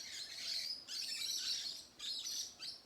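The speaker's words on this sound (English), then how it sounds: "the king parrot, that's what you're seeing in this tree, are hanging around" King parrots calling from a garden tree, a series of bright, high chirps and squawks in several bursts with short pauses, fairly close and alone.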